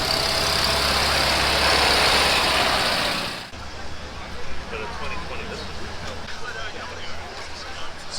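Off-road race truck idling at a cars-and-coffee meet, a loud steady engine rumble close by that drops away abruptly partway through, leaving quieter outdoor crowd ambience with people talking.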